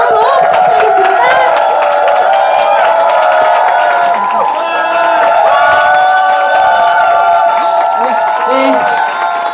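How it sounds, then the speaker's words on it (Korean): A large audience at a Korean corporate seminar gives loud, sustained applause with cheering and whoops, a dense continuous wash of clapping throughout. "큰 박수로 부탁드리겠습니다"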